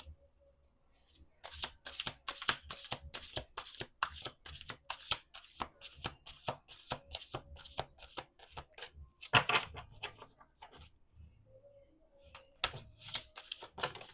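Tarot cards being shuffled up close, bursts of rapid riffling clicks with short pauses between, a brief quiet voice partway through.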